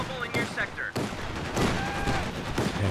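Browning Automatic Rifle fire in Company of Heroes 2, a few short bursts of gunfire in a busy battle mix with other weapons, under a commentator's voice.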